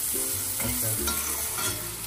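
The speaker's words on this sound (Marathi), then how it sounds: "आता कांदा टाकला. आता ही कांद्याची फोडणी होणार." Chopped onions hit hot oil for a Nashik-style zunka tempering, giving a steady close sizzle and frying crackle with a few stirring scrapes, no talking over it.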